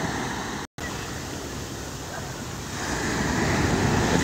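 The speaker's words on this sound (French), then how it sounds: "La grosse vague." A big ocean wave crashing on the shore at 7 a.m. during carnival time: a continuous roar of surf mixed with wind noise that swells louder toward the end, close and steady.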